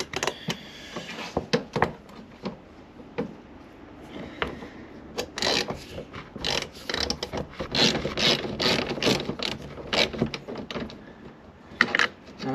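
A ratchet clicks as it loosens a 17 mm bolt on a BMW S54 Vanos unit, giving bursts of quick pawl clicks and metallic clunks, close and moderately loud.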